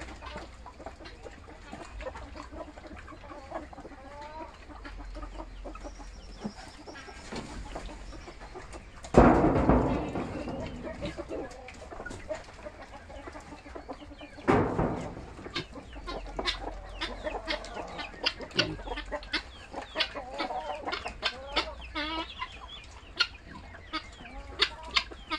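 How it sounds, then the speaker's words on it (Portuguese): Guinea fowl and bantam chickens at a farm cluck and chatter continuously at close range. The calls are busy and irregular, with a few louder bursts of flapping or squawking standing out, and no talk is heard. "A galinha da Angola. Olha o Guarnizé."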